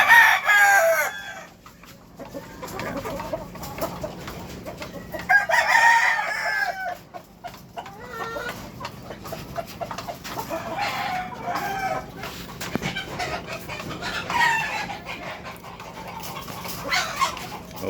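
Peruvian hybrid fighting roosters on a cockfighting farm crow repeatedly in long, loud calls, with clucking fowl and an occasional dog in the background; no one talks.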